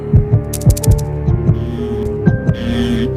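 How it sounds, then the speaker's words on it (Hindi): A fast heartbeat thumps in a horror story scene, quick paired low beats repeating steadily and close, with a faint hum underneath and no talking. "मेरा दिल इतना तेज क्यों धड़क रहा है?"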